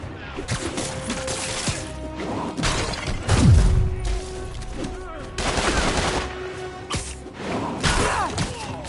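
Gunfire in a Spider-Man video game: dense, loud volleys of rapid shots mixed with crashing thuds and impacts, running continuously for the whole stretch.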